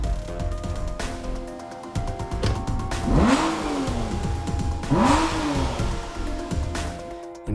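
Aston Martin V12 Vantage S with its V12 engine revving hard, two sharp rising-and-falling throttle blips over a loud, steady idle, close and without voices.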